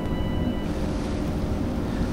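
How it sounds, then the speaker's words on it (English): Steady ocean waves and wind rush around a small ferry boat on open water in the indie horror game The Ferry, a continuous broadband wash with no talk. "Maybe it's a bit more waves now than in the beginning."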